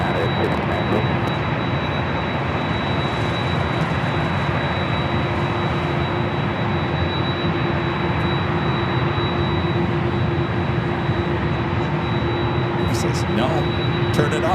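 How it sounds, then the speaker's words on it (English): A Delta Airlines Boeing 737-800 arriving at Los Angeles from SFO produces a continuous jet-engine roar with a thin steady whine, sustained and fairly loud from start to finish. "Next arrival is Delta Airlines Flight 1715 coming in from SFO"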